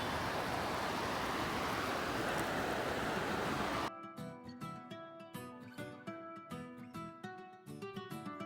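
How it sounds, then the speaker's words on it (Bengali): Bay of Bengal surf breaking on a beach along the Cox's Bazar Marine Drive, a loud, steady roar of waves for about four seconds before it abruptly gives way to music. "বঙ্গোপসাগরের তীব্র ঢেউ আর গর্জন বা হোয়াইট নয়েজ উপভোগ করার মতো অসাধারণ এক জায়গা"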